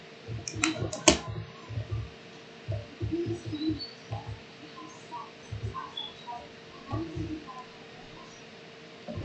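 Constant computer mouse clicking and keyboard tapping while playing a modded Minecraft game, a steady run of soft close clicks in uneven bursts with faint background noise.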